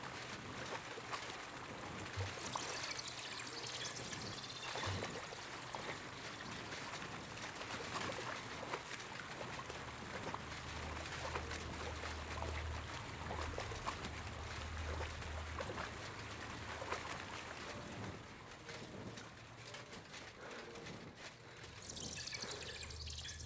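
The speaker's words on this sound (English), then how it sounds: "Walking through water in this game sucks." Steady faint sloshing and splashing as a character wades through water in Kingdom Come: Deliverance II, a continuous low watery churn without talk.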